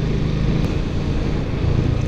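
A Suzuki Gixxer single-cylinder motorcycle engine runs steadily in fifth gear at about 35 km/h, a low continuous drone mixed with wind noise and no speech.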